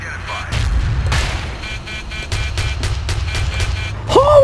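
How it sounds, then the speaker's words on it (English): Missile explosions in the video game Battlefield 2, a run of booming blasts and heavy rumbling that fill the whole stretch, with a sharp whistling sweep near the end. "All of these missiles! Poof!"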